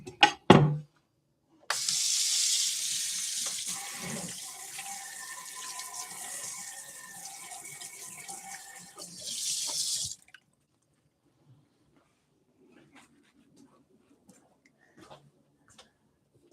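Tap water running hard into a kitchen sink for about eight seconds while a fishy cutting board and knife are washed, loud and close, with a few clunks, then the tap shuts off leaving faint clicks and quiet.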